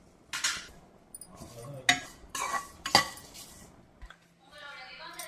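Moringa leaves being dry-roasted in a pan, a utensil scraping and clinking against the metal in several short stirring strokes, fairly close, with brief crisp rustles between them.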